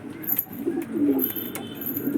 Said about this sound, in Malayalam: നല്ലൊരു മെയിൽ പ്രാവ് തന്നെയാണിത്.